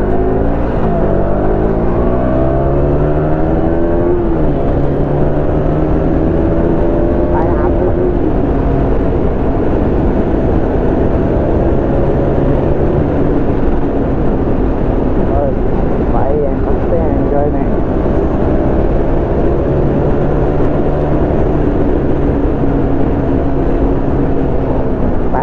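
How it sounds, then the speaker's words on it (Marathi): Heavy dumper trucks loaded with large stones rumble along a road during a motorbike ride from Mumbai to Palghar, with loud continuous engine drone, shifting gear pitches, wind roar and someone talking throughout. "गाड्या आहेत ना डंपर वगैरे, मागं बघा किती मोठ्या दगडी भरल्यात."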